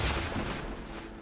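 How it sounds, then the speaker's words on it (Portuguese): A gunshot in the video game Metal Gear Solid 3: Snake Eater: one loud blast at the start that rolls off into a long, fading echo. "O disparo ecoa"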